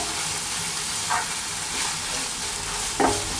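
Savory brioche filling sizzles steadily in a pan while a utensil scrapes and stirs it now and then, a close, continuous frying hiss heard alone.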